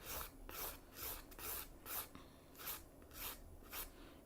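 A nail file rasps back and forth across gel nails in steady, even strokes, about two per second, close up and soft, with nothing else in the background.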